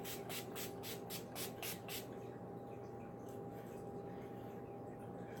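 A quick run of about eight short, crisp spray bursts from a pump bottle, close by, followed by quiet room hum.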